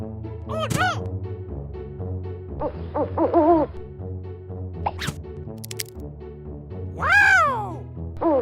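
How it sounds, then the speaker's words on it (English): Toy owl hooting in a few clear calls over cheerful music, mixed with whistles and playful sound effects, loud and close. "Owl! Owl! Owl!"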